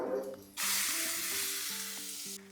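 Coconut chutney hits a hot tempering of oil with asafoetida and turmeric in a pan, bursting into a loud, steady sizzle that holds for about two seconds before cutting off; a faint hum runs underneath.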